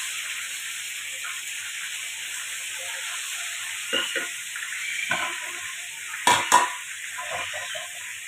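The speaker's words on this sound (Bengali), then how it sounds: "আর একটু ভেজে নিই" Food fries in a pan with a steady, even sizzling hiss throughout. A few louder scraping stirs come through near the middle and toward the end.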